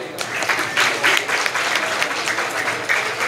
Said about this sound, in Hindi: फैसलाबाद के लिए तालियां बजाएं